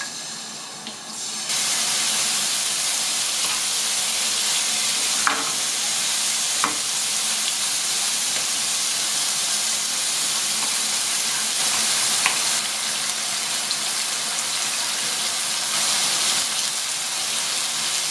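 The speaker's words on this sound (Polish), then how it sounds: "Na dość dużym ogniu będziemy piec nasz karczek." Pork neck sizzles over high heat in a pan, a loud, even hiss and crackle that starts after a quieter moment and continues with occasional sharp pops.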